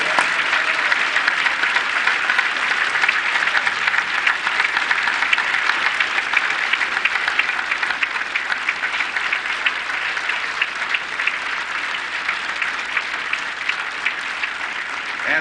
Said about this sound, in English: How about one more round of applause for all of our honorees in the class of